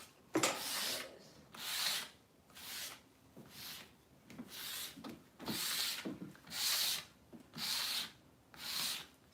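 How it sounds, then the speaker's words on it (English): Sandpaper rubs rhythmically across a small wooden surfboard-shaped bottle opener, about ten steady back-and-forth scratchy strokes, close and fairly quiet. "So I'm using sandpaper."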